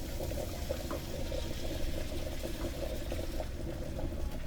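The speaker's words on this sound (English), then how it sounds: "I'm going to add some hot water to kind of deglaze the pot." Hot water pours into a pot of sautéed seasoning to deglaze it while cooking Jamaican steamed fish with okra, a steady, dense rushing and bubbling wash that continues evenly, close by and without speech.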